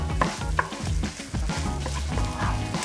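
Beaten eggs and day-old rice stirred together in a hot pan, a continuous sizzling fry with repeated scraping strokes of the utensil, close and fairly loud with no talk.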